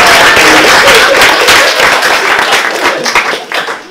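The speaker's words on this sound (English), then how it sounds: "Let us all give a round of applause for Ali" A crowd at an awards presentation bursts into a loud, sustained round of applause, dense overlapping claps filling the room and thinning slightly toward the end.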